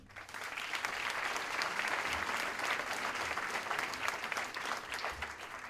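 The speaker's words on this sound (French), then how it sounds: "je vous demande d'applaudir Michel Martin" Sustained applause from an audience at a French public campaign meeting as Michel Martin is welcomed, a steady wash of many hands clapping at moderate distance with no break.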